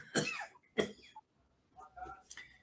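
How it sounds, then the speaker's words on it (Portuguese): A man coughs twice in quick, harsh bursts, then clears his throat more quietly after a short pause, close and alone in a quiet room. "Estou com um pouco de tosse aqui"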